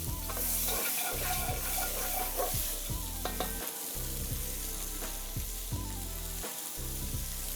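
Blanched almonds toast in a hot pan in a wood-oven kitchen, giving a steady, loud sizzle with frequent stirring scrapes and clatters all the way through and no talk.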